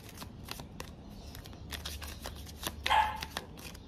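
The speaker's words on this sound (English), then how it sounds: "All right, two more shuffles." Tarot cards are shuffled in a quick run of crisp riffling taps, with a louder flurry near the end, close and with no talking.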